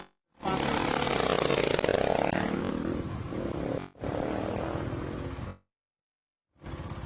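A Husqvarna off-road race motorcycle at the SCORE Baja 400 roars past with a rising, then fading engine blare, cuts out briefly, returns, and drops away; a second burst starts near the end, with no talk.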